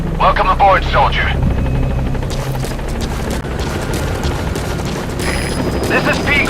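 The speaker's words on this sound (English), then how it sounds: "Support helicopter has arrived." Support helicopter from Metal Gear Solid V: The Phantom Pain arriving at a landing zone, a steady loud rotor drone throughout, with voices talking over it at the start and end.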